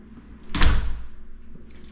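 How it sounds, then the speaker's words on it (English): A spring-loaded door in a house under renovation swings closed with a single solid thud, fairly close and loud, followed by a faint room tail with no talking. "Spring-loaded door, so it'll always stay shut."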